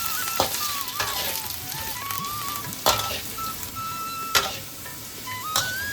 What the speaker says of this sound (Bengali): ওই তেলেতেই এবার আমি কিছু আলু ভেজে নিচ্ছি